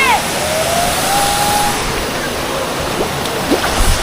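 River water pours over a small, newly built dam, making a loud, steady broadband rush that stays close and constant throughout.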